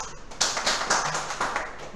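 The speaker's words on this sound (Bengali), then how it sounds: "এই হাততালি।" Students in a Python programming class clap their hands, a brief cluster of claps in uneven rhythm, fairly close and moderately loud.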